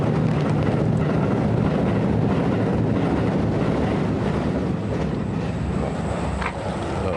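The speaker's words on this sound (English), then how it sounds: "It sounded like a big train going by." A heavy low rumble rolls on steadily, like a big train passing at a distance, then eases slightly toward the end, heard during a riverside walk in Tokyo.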